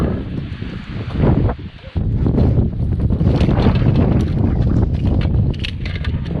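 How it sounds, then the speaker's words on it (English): Strong outdoor wind buffets the microphone with loud continuous roaring gusts and a brief lull near the start, not far from a dog and cat boarding place in New Mexico. "this is another reason why I don't like the wind"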